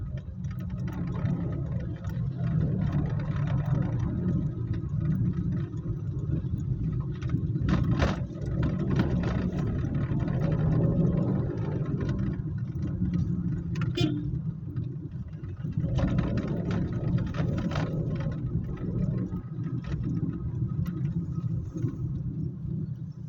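Road traffic along 7th Avenue toward the pier in Metro Manila, a continuous low rumble of car and engine noise with occasional ticking and brief passing swells, steady and fairly loud.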